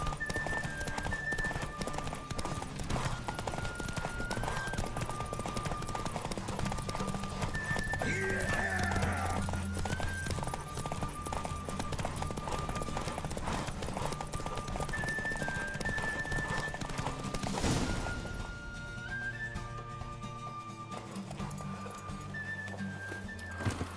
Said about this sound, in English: Faster, Beecher, faster! Got a ripe apple for you when we're through!